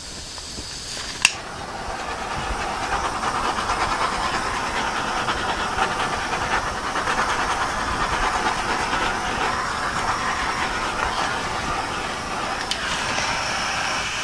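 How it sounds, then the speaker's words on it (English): A heat torch blows a steady, loud hiss of air and flame across a freshly poured acrylic dirty pour, continuous for the whole stretch, with one sharp click near the start. "I'm going to take my heat torch."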